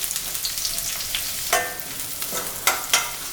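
Chopped onions and curry leaves fry in hot oil with mustard seeds, a close, steady sizzle broken by a few sharp scrapes and clinks of a spoon stirring the pan.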